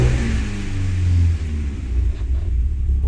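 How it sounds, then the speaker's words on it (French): A Volkswagen Golf 2 16v engine revs close up, a steady low rumbling drone with throttle blips and a brief dip in the middle, loud and continuous throughout. "faut pas donner de coups de gaz à froid"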